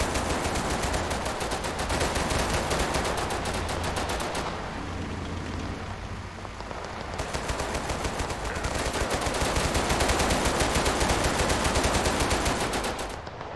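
Sustained automatic gunfire in the video game Total Conflict: Resistance, loud rapid bursts chattering almost continuously, with a brief lull midway before the firing resumes at full intensity, no talking.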